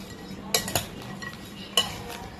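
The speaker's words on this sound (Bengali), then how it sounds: "এটাকে ভালো করে মিক্স করতে হবে।" Spiced puffed rice being stirred in a bowl, with a few close, sharp spoon clinks against the bowl's rim among soft rustling of the dry mix.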